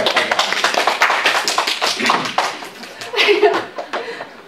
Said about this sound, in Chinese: 有， 大家鼓掌。